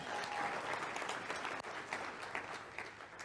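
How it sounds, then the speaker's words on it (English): Corporate audience of about seventy people clapping at a live event, dense steady applause that continues for a few seconds and then softens slightly. "A round of applause."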